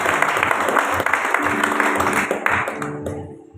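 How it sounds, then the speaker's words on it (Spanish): A church congregation applauds steadily, clapping dense and loud before tapering off at the end, with a voice faintly underneath. "Denle un aplauso al Señor, hermano."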